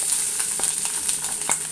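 Fennel seeds and grated coconut fry in a pan with a constant bright sizzle, punctuated by soft scraping stirs of a spoon at irregular intervals, close and without speech.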